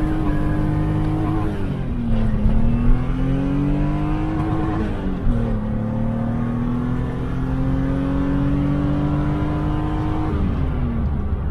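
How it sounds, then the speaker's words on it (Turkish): A BMW M2 E30 making about 180 horsepower launches hard from a standstill, its engine revving up loudly through several gear changes with a brief dip at each shift, close by and alone. "Şuradan böyle şöyle bir yakarak bir kalkalım."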